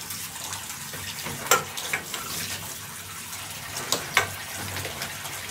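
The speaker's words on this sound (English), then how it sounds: "Now you can add some water." Water runs steadily into a bathtub for washing a cat, with a soft rushing hiss, broken by a few brief splashes and knocks.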